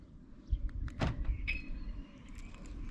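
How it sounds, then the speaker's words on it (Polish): An Audi A6/A7 C7 locks with a short, close electronic chirp from a factory alarm, preceded by a mechanical clunk and followed by a brief whirring motor sound. "jak słychać dźwięk jest przy zamykaniu"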